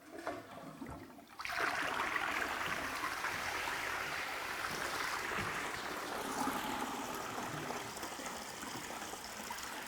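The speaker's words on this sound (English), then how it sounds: "The next thing we're going to do is actually flush the loo itself." A toilet cistern being flushed after a handle is swapped for a push-button flush: a brief quiet click-like lead-in, then a sudden loud rush of water that settles into a steady, close gushing flow.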